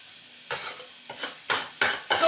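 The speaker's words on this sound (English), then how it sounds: "Saute that for a few minutes before I'm going to add the Brussels sprouts" Leek sautéing in hot turkey lard in a pan, a crackling sizzle broken by several bursts of stirring and tossing, close and clear, with no talking.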